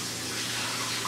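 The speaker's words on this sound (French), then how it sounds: "Je vais aller juste rincer ça." Tap water runs steadily as nuts are rinsed for homemade nut milk, a close, even hiss of flowing water with no voices.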